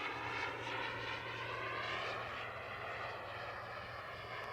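A BVM T33 model jet cruises at around half throttle with no wind, producing a steady, moderately distant turbine roar and whine that holds an even level throughout.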